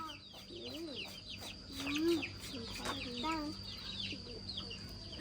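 Chickens cluck and chatter in a series of short, close calls, with occasional louder squawks, moderately quiet, while a faint voice is heard in the background.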